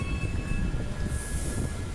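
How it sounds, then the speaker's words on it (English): A High Wycombe train pulls into a station with a steady, close, heavy low rumble that continues unbroken throughout, with no talking. "Okay, High Wycombe train's here too"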